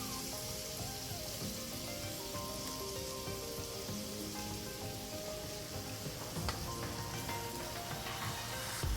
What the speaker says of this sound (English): we're gonna put our steak on top of that